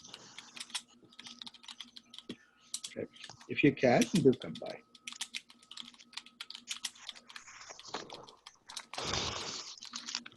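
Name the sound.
someone typing on a computer keyboard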